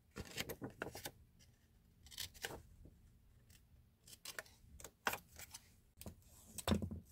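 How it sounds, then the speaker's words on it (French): Scissors snip through paper while a tea Advent calendar is being made, sharp bursts of several quick cuts separated by short quiet pauses, close and alone. "je viens découper, voilà, pour avoir mon angle correct"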